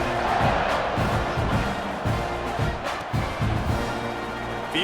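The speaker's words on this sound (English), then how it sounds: "this crowd is buzzing after that last score" A College Football 26 stadium crowd roars steadily after a score, a loud, continuous wash of cheering with a few swells and no distinct speech on top.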